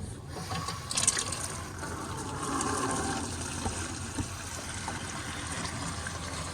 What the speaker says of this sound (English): Now we can close off our drain, or open up our drain valve up here.